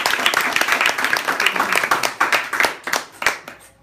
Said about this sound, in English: If I get a round of applause for a woman.